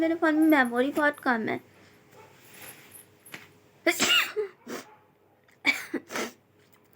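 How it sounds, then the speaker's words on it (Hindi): A person sneezes indoors in cold weather, set off by the cold air from a fan, with sharp bursts following talk, close and loud, then quieter breathy sounds. "इसलिए मेरे को पंखे की हवा से भी छींक आ गई।"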